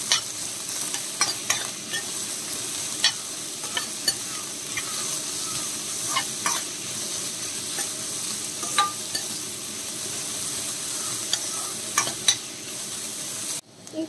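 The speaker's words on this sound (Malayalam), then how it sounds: "നന്നായിട്ട് ബ്രൗൺ കളർ ആവുന്നത് വരെ നന്നായിട്ട് വഴറ്റി എടുക്കാം" Ingredients for beef curry are sautéed in a hot pan, a steady sizzle broken by repeated scraping stirs of a spoon, close and continuous, with no talking.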